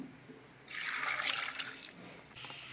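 A glass of water is poured into a cooking pot holding brinjal and potatoes for a gravy curry, a steady splashing pour of about a second and a half, close and fairly loud, with no talking.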